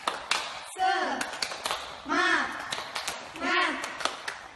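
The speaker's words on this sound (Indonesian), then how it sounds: "Ayo kita tepuk semangat" Children in a classroom perform a rhythmic clap-and-chant routine, sharp group claps alternating with three loud chanted shouts from young voices, close and lively.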